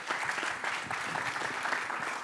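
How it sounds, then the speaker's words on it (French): An audience at a startup competition final applauds the company's CTO, giving brief, fairly faint, continuous clapping from a crowd heard at some distance. "Allez, on l'applaudit bien fort."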